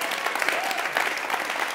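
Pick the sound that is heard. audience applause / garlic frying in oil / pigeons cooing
audience applause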